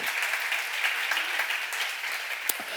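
Audience applause at a church seminar, a hall full of people clapping steadily and moderately loud for a few seconds, with a sharp knock near the end.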